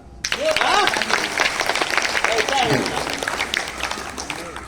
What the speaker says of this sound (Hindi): बहुत जोरदार ताली थोड़ा सर के लिए